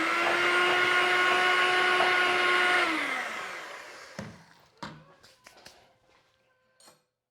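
An electric hand mixer whirs loudly and steadily while mixing icing sugar for a plum cake, then winds down and stops, followed by scattered clicks and taps of the bowl and beaters.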